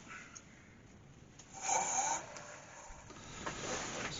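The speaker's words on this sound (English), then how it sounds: "what's left for me to do now is just give that a sanding" A glued-up wooden bowl made from donated wood being sanded, a soft faint rasping rub that swells into a louder scratchy burst midway, then continues as a steady gritty hiss.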